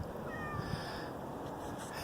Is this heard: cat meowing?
yes